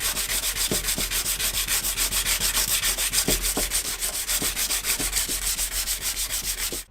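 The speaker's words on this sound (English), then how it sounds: "I'm just going to give it a quick sand" Sanding of painted metalwork inside a campervan conversion, a steady abrasive rubbing that runs continuously and close up for several seconds, with rhythmic strokes and occasional sharper scrapes, and no talk.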